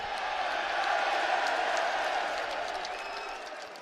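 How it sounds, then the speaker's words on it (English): Loud crowd at a UFC press conference, a continuous roar of cheering and applause filling a large hall, steady and slightly fading toward the end. "The crowd's that loud, I can't even hear you."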